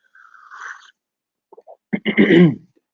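A single sharp allergy cough bursts out after a few faint breaths and short clicks, close and fairly loud, with a brief rough tail.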